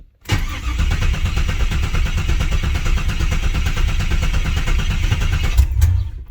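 A 6.0-litre LS V8 swapped into a Pontiac Firebird starts for the first time, catching quickly and running at a loud, rough, steady idle close by, then a brief blip of throttle near the end.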